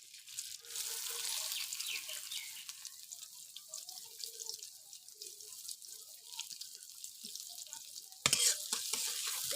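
Chopped onion frying in mustard oil gives a steady, bright sizzle with occasional stirring scrapes, and a sharp clatter near the end.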